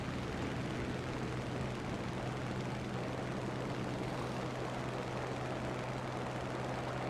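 Propeller engine of a Sea Hurricane fighter plane in an arcade-mode combat flight game, a steady loud droning hum with a constant low tone, running continuously without pause.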